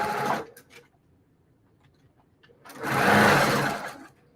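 A home sewing machine runs two loud bursts, a short one and then a longer whirring run, stitching a second seam half an inch from the first across a mosaic squares quilt block, with quiet pauses between.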